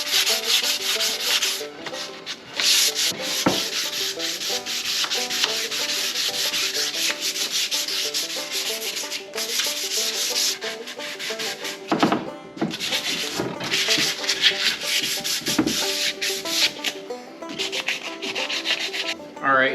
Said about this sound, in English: I'm gonna hit it with a little sandpaper.